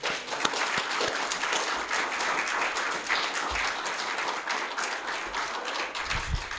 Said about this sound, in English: Please give Jake a hand of applause.